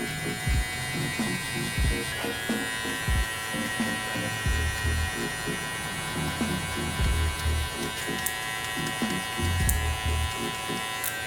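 Electric hair clippers with a half guard, working a mid taper fade, give a constant close buzz punctuated by rhythmic flicking strokes against hair, repeating steadily throughout.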